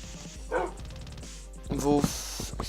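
A dog barks twice, a short yip followed by a louder, fuller bark, each sounding close, amid quiet background noise and what could be a person speaking.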